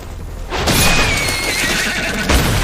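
A horse neighs loudly in an anime, a sharp rising whinny that sweeps and trails off over about two seconds, close and prominent, with a thud near the end.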